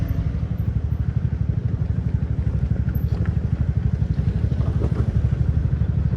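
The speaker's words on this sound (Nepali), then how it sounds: "नेपालमा बाइक राइड गर्न एकदम गाह्रो छ अब यस्तो धुलो बाटोको राइडलाई तय गर्नु परेको छ" A motorcycle rides along a rough, dusty road in Nepal, its engine a steady loud drone with rapid rhythmic pulsing and occasional clatter throughout, with no talking.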